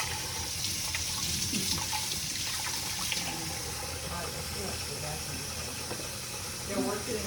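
Warm water running and splashing from a tap in a home kitchen while making flour tortillas, a steady close hiss with liquid patter throughout, with people talking over it.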